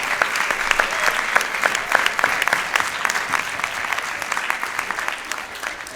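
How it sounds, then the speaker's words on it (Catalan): An audience at the Teatre Nacional de Catalunya gives a strong, sustained round of applause for the theatre's technicians during a course inauguration, dense clapping with crisp individual hand strikes throughout. "us demano un fort aplaudiment per ells"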